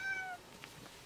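A house cat gives a single short, faint meow at the very start, followed by quiet room tone.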